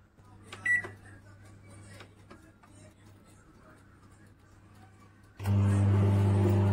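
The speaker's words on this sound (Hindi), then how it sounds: "तो देखिए माइक्रोवेव में ये स्टार्ट हो चुकी है बनना" A low electric hum plays with faint clicks and a quiet voice, then a microwave oven heating bread for brown bread crumbs starts up with a loud, steady mechanical drone.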